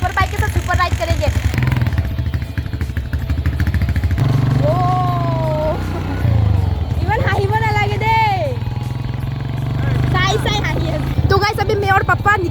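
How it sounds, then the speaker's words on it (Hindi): A superbike motorcycle ridden on the road with its engine droning steadily throughout, while people talk over it and music plays along. "तो गाइस अभी मैं और पापा निकल चुके हैं अपना सुपर बाइक पे"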